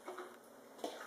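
Faint clinks of a spoon against glass as kimchi with carrot and daikon is spooned into a quart jar, two soft knocks a moment apart, close and quiet with no talking.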